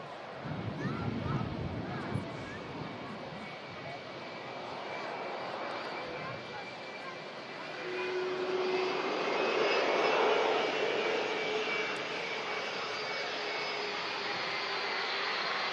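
A fixed-wing airplane takes off at Manchester Airport, its steady engine roar swelling louder partway through and holding strong to the end, with occasional talk nearby.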